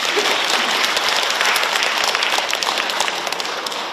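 Audience applause at a book launch event, a dense, steady wash of many hands clapping close and loud throughout, with no talk over it.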